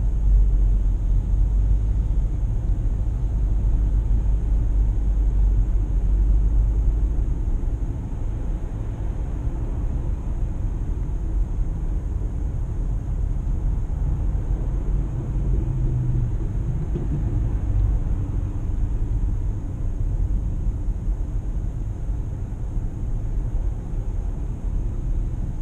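A Nissan Murano creeps along slowly, giving a steady low engine and road rumble from inside the cabin that stays even throughout, with no talking.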